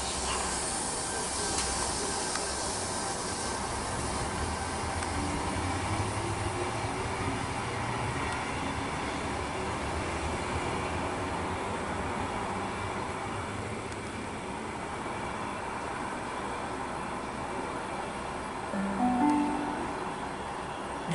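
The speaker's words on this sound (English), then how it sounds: "see this Tangara departing shortly. And that's around about now." A Sydney Tangara electric train pulls away from Wolli Creek station with a steady rumbling hiss and motor whine, a brief brighter tone rising near the end.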